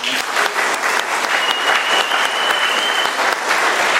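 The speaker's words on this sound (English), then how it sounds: "One more round of applause for Joanne." Sustained audience applause fills a recovery meeting room in Doylestown, Pennsylvania, a steady dense patter of many hands clapping at close range for the full length, with no talk over it.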